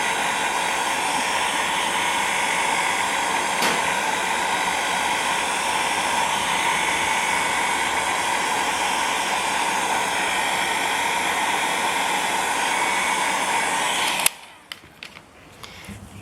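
A heat gun blows steadily and loudly on black synthetic yupo paper for about fourteen seconds, a broad even rushing roar, then cuts off abruptly, leaving only faint handling noises.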